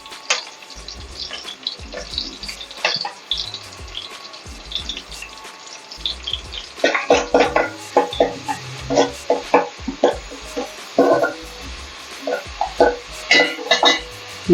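Ginger garlic paste frying with softened onions in a pan for a Tamil fish curry, a low sizzle under repeated clinks and scrapes of a spoon stirring against the pot, the stirring getting busier and more rhythmic in the second half.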